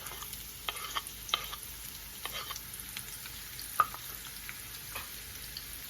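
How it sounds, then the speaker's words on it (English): Onion frying in oil for a haleem tadka gives a faint, steady sizzle. A few sharp stirring scrapes and clicks come through at intervals, with no voices. "I'm going to fry this in the oil that I have here"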